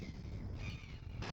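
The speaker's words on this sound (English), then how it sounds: "God, there's so many birds." Harsh crow caws fill a short burst, several birds calling close together at the Sulphur Point wildlife reserve against a noisy outdoor background.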